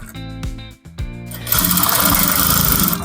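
A sewing machine stitches a trouser front pocket, first in a few short stop-start bursts, then running loud and steady at speed close to the listener, with no talking.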